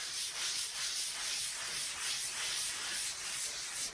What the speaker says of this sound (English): So take your sander, you just go in a circular motion.